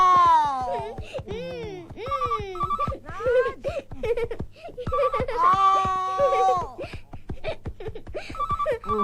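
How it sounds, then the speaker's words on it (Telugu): A telephone rings in short pulsed electronic bursts that repeat several times, partly buried under loud talking from an adult and a child. "అబ్బా రాజ్, ఫోన్ తీయచ్చు కదా."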